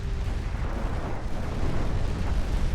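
Torpedo strike exploding against a warship in the naval battle game Ultimate Admiral: Dreadnoughts, a dense, rumbling low boom that rolls on steadily for a few seconds with no clear single onset.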